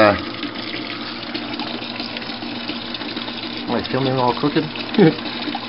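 Hot water circulates through an Ecotemp tankless water heater, a steady rushing and trickling of water with a few bubbling gurgles near the end, while a person speaks briefly.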